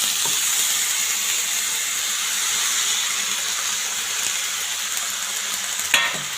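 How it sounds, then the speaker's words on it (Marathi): Fenugreek leaves and mixed vegetables are stirred together in a pan over steady, low sizzling frying, with a sharp utensil clack near the end and no talking. "तर आता आपल्याला सर्व भाज्या एकत्र टाकून घ्यायच्या आहेत"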